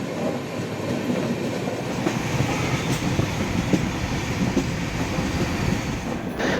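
Steady rumble and rattle of the Vivek Express, an Indian long-distance train, running on rails just after leaving Kamakhya station near Guwahati, heard from inside a 3AC coach with continuous wheel clatter and no talk.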